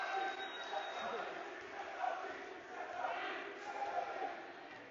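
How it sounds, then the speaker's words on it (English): A crowd cheers and shouts through a unified basketball game between Fossil Ridge and Fort Collins high school teams, a steady gym roar with a few swells and a clap or whistle near the start, under an announcer's talk. "Look at Zach all pumping up the crowd over there"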